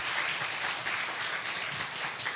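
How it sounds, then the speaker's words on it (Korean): A church young adults' worship gathering greets new members with applause, a fairly faint but continuous patter of clapping from the congregation, heard alone without talk. "나오실 때 큰 박수 부탁드립니다"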